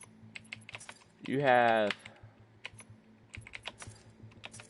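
Keys clatter on a computer keyboard during gaming, a rapid scatter of light taps close by, broken by a short spoken phrase.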